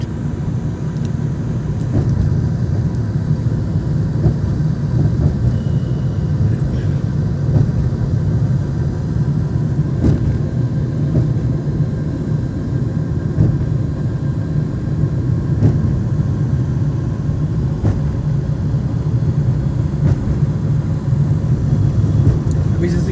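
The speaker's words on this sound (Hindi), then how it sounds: "बिल्कुल इंजन आवाज़ नहीं चल रहा बहुत स्मूथ इंजन चल रहा" A car engine hums smoothly while driving in third gear, a steady low drone with road noise filling the whole stretch, and faint clicks now and then.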